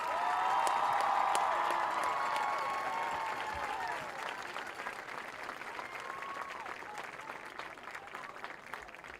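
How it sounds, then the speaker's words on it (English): A home crowd at a high school football game's homecoming ceremony bursts into loud applause that peaks early, then thins to scattered clapping and cheers as it fades. "Let's give all these young men and women another round of applause."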